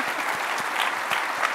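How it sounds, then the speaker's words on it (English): A conference keynote audience applauds, a steady wash of many hands clapping at once in a large hall, dense and continuous with no talk. "So give her a round of applause."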